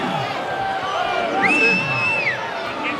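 Rugby crowd at a 2012 ITM Cup match between Northland and North Harbour, a broad distant roar of cheering and whistling from the stands, with a rising whistle cutting through.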